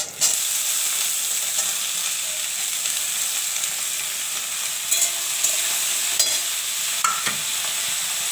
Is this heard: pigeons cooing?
no